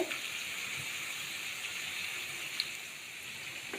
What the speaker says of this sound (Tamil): ஈரல் வந்து நம்ம கழுவும் போது மஞ்சத்தூள் சேர்த்து கழுவுனோம்னா அந்த கவுச்சி வாடையெல்லாம் இருக்காது